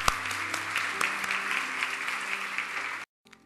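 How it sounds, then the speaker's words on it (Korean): A church congregation applauds together in a steady, dense burst for about three seconds, sustained and fairly loud, then it stops abruptly into near silence. "하나님께 감사의 박수를 드리겠습니다."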